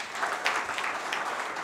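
Brief clapping from an audience at a Hindi poetry collection event, a short burst of many hands with a few sharper claps, moderately loud and over quickly.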